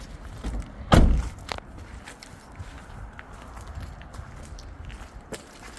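A single loud metallic slam of a Mercedes-Benz Citan van's rear slam-lock door near the start, followed by a few softer clunks and quiet shuffling.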